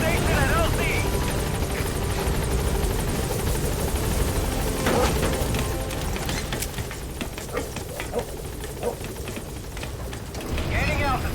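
B-Quad support helicopter arriving in the Metal Gear Solid V game, a loud continuous rotor and engine roar that eases slightly and then swells again, with radio-style voice chatter over it.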